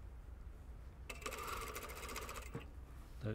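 Sewing machine stitching down the center of two rows of stitching while a puff sleeve is set into a shirt armhole. Alone and close, it makes one short, rapid mechanical whirr lasting about a second and a half.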